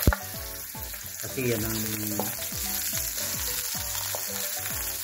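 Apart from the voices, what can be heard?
onions sautéing in oil for pork stew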